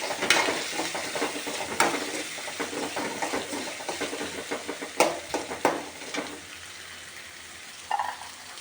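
Onion and tomato sauté in a pan for a dry Gujarati-style vegetable sabji, giving a steady close sizzle with repeated scraping stir strokes. The sizzle thins toward the end.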